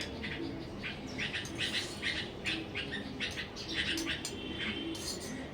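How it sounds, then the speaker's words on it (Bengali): Birds call outside, heard indoors near a clay-stove cooking setup: repeated bright chirps and squawks come in quick bursts over a low steady background. "কারণ পাখি ডাকা শব্দ হচ্ছে তো বাইরে।"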